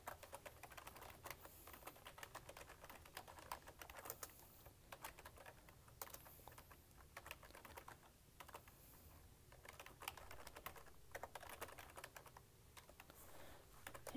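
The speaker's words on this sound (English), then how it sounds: "I'm just going to type in some different color names and a little sentence about it" Fingers type steadily on a computer keyboard, producing a continuous stream of soft, fast key clicks heard close and alone throughout.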